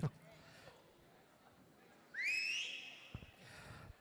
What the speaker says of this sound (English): Joe, whistle.